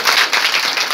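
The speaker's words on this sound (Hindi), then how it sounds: "उनके लिए एक बार जोरदार ताली बजाने की है।" A village audience at a gathering in Datiyana, Muzaffarnagar, breaks into loud, close, rapid clapping that holds steady for a moment.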